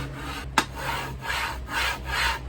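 A sharp click, then smooth, soft back-and-forth rubbing strokes of metal on metal after a lubricant spray, close and fairly quiet.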